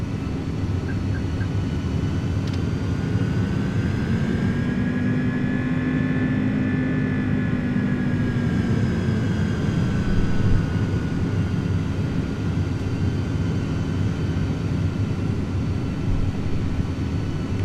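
Steady engine drone of an iniBuilds A300 with Pratt & Whitney engines in Microsoft Flight Simulator, a continuous loud hum with a slowly rising and falling whine in the middle as throttles are worked.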